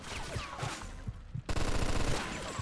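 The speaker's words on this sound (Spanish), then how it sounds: "¿Ves la ametralladora del balcón, escaleta?" Machine gun firing from a balcony during a Mafia II shootout, sustained rapid bursts of loud gunfire with echoing reports, dense and continuous over the whole stretch.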